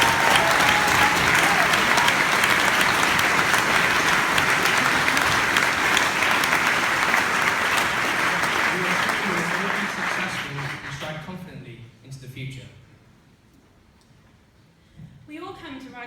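Sustained loud applause from a large crowd fills most of the clip, fading out before a voice resumes speaking near the end.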